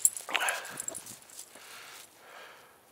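A dog sniffs around outdoors in an American village on a late autumn morning, making a quick cluster of close, short snuffling bursts that then fade to softer, scattered noises.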